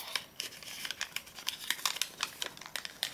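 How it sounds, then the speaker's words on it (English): Paper rapidly crinkles and creases as a sheet is folded in half for an origami fish, a quick series of close, crisp rustles and crackles. "you fold it in half."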